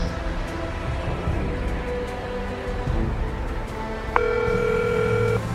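A phone line rings through a handset on the summit of Mount Everest; a steady electronic ringing tone starts partway in over quiet outdoor background noise.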